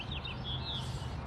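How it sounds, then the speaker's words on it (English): Birds chirp outdoors on a morning, a few short high calls over a steady low background hum, heard briefly and at moderate distance. "It's awesome seeing the birds, hearing the birds chirp."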